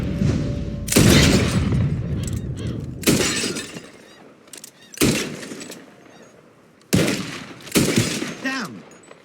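Gunshots at bottles in Red Dead Redemption 2, several loud sharp blasts spaced a second or two apart, each with a crashing shatter of glass and a decaying echo.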